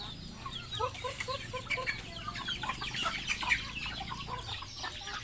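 Backyard chickens cluck steadily in short, repeated bursts while being fed, a small flock close by with overlapping calls and a low farmyard hum beneath.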